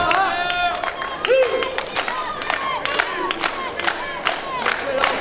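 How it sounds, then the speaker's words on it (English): A wrestling crowd at an independent show roars and cheers to rally a wrestler late in a long match, a dense, loud wash of shouting voices with scattered claps and cries rising and falling throughout. "Crowd trying to rally Austin here"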